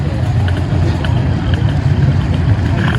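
Close and loud, a two-stroke scooter engine holds a constant buzzy hum on a dynamometer at a minibike reunion, steady and unbroken, with a faint background clatter.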